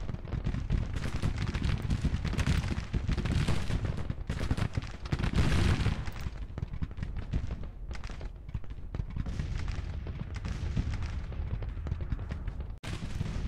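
Continuous battlefield din in Grand Tactician: The Civil War, with rolling artillery booms and crackling musket gunfire layered throughout, swelling heavier around the middle.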